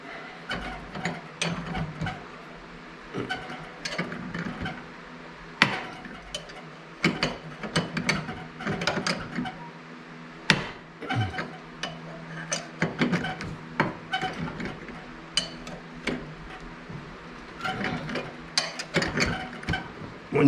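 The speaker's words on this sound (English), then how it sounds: "I'll put a ratchet on it to speed this up a little bit." A ratchet spins off a loosened bolt on a Dodge diesel coupler gear, giving steady close ratcheting clicks in uneven strokes with light metallic rubbing and tool handling throughout, no voices.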